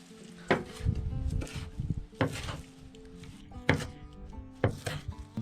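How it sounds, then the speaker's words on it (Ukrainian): A knife chops fresh herbs on a cutting board in a home kitchen, with several sharp, separate bursts of quick strokes separated by pauses and soft handling noises, no one speaking. "Нарізаємо зелень."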